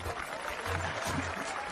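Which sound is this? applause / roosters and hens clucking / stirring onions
applause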